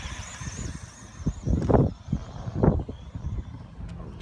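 ECX Ruckus 4x4 and ECX Boost RC cars on 2S batteries race and bash outdoors: a thin high motor whine over wind, swelling into two short louder rushing bursts as they pass.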